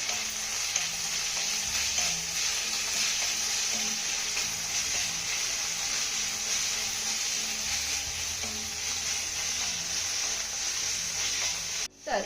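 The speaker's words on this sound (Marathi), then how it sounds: "आता हे घातलेलं सर्व साहित्य आपल्याला दोन ते तीन मिनटं चांगलं परतून घ्यायचं आहे" Capsicum, cabbage and steamed peas sauté in a hot pan with steady, close sizzling and frying hiss and light stirring scrapes throughout, alone with no talk.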